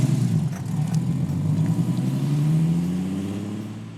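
A 1990 TVR S2 with a Ford 2.9-litre six-cylinder engine revs up close and loud, its rumbling note climbing steadily and then easing off, with no voices over it.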